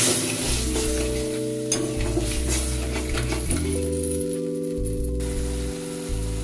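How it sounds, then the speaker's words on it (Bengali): Potatoes with ground spices sizzle steadily in a pan after a splash of water, a loud continuous frying hiss with occasional stirring clinks, close up and without voices. "আলুর সাথে মশলাটা এবার মিশিয়ে নিচ্ছি। মশলাটা যাতে পুড়ে না যায় অল্প জল দিয়ে দিলাম।"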